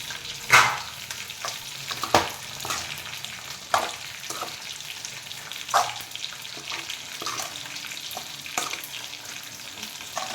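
Fried chicken 65 pieces being tossed into a frying masala in a pan, a continuous sizzle broken by several sharp clinks and stirring scrapes at uneven intervals, with no talking.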